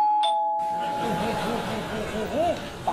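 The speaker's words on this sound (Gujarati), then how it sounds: "પાછી ઘંટી વાગી." A doorbell rings on stage during a Parsi comedy play, a brief electric chime near the start followed by a lingering tone, with a performer speaking over the scene afterwards.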